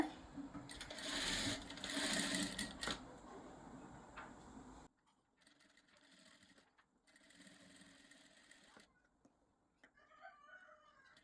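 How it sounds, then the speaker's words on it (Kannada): A sewing machine stitches thread piping along a folded neckline edge, running in a loud close burst for a few seconds, then continuing more quietly in intermittent short runs with pauses. "ಈ ಥರ ಫೋಲ್ಡಿಂಗ್ ಮಾಡಿಕೊಂಡು ಈ ಎಡ್ಜಿಗೆ ಸ್ಟಿಚ್ನ ಹಾಕ್ಕೋಬೋದು"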